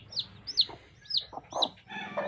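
A domestic desi hen with newly hatched chicks makes four short, repeated high chirps and soft clucks in quick succession, heard close and clear in a quiet setting.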